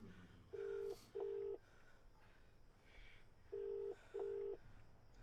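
A telephone being dialed gives four short, clean keypad tones, arranged as two pairs with a pause between them, heard over a quiet background.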